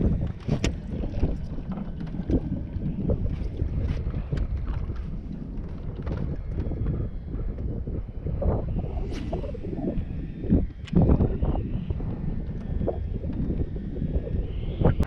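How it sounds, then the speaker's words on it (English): Low rumbling wind buffets the microphone continuously, with occasional knocks and splashes from a small bass fishing boat on the water. "it's windy out here"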